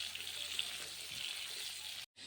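Pointed gourd pieces fry in mustard oil with a soft, even hiss close by, briefly dropping out near the end.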